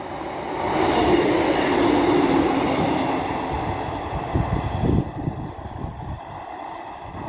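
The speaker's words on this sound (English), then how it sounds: "The next train to be coming through will be a Class 150 from Headbolt Lane to Blackburn." A Class 150 diesel train passes through Castleton station on the Calder Valley line, a loud steady rumble of wheels and engine that rises, holds, then fades, with rhythmic clatter over the rail joints.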